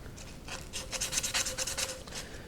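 Sanding a Proto adjustable wrench by hand: a quiet, close run of rhythmic abrasive rasping strokes, about a dozen quick passes over two seconds.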